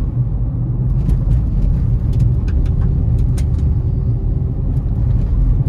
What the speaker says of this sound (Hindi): थर्ड गियर में चल रही है गाड़ी